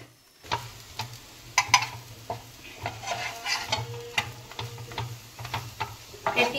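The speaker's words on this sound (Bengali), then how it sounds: "আর তারপরে এই ফুটন্ত মাছের তেল" Fish oil boils and sizzles in a pan, giving a continuous crackling hiss broken by sharp clicks and scrapes of stirring, with no talking.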